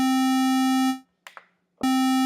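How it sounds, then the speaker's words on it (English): A U-He Tyrell N6 synthesizer plays oscillator 2 set to a square wave, giving a steady buzzy held tone. The note cuts out briefly with a small click and then returns at full level. "it is on a square wave and it sounds like this"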